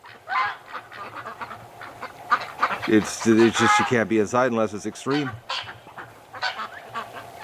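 A flock of outdoor ducks quacks and honks loudly and nearby, with a dense burst of calls in the middle, while someone talks over them.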